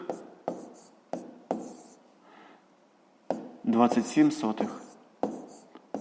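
Pen strokes on paper, brief scratchy marks while an answer is written out by hand, close and fairly soft, with a voice talking through part of it.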